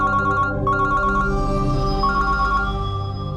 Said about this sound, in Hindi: मैं फोन लेता हूँ